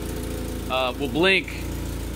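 A car engine idles steadily in the background with a low continuous hum while someone talks over it.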